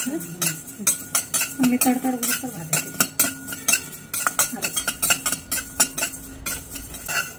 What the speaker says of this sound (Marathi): आता आपण त्याच्यामध्ये बडीशेप टाकणार आहोत आणि ही पण मंद आचेवर भाजून घेणार आहोत